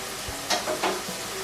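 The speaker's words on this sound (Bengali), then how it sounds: "জিরের গুঁড়ো ধনে সব মশলাগুলো পেঁয়াজ পেস্টের সাথে ভালোভাবে মিশিয়ে কষে নিতে হবে" Ground spices for a raw banana curry sauté with onion paste in a pan, a soft low sizzle with a few brief scraping stirs, close and quiet.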